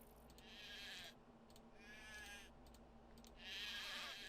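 Sheep in the game Craft the World bleat three times in succession, each call wavering and nasal, spaced about a second apart over a faint background hum.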